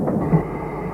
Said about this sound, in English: these 2 Stanier 8Fs haul a freight train towards the Birmingham line